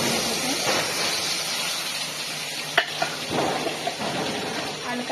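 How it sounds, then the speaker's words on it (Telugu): Tempering spices sizzle in hot oil for a chutney, a continuous crackling fry close by with a few sharp pops and stirring clinks over the steady hiss. "చట్నీ అయితే పట్టించేసాను, తాలింపు వేస్తున్నాను"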